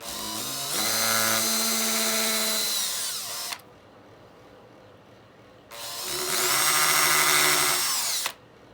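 Two bursts of a power drill whirring at high speed as it drives a screw into wood during a guitar build, each about three seconds long with rising and falling pitch, separated by a short quiet pause.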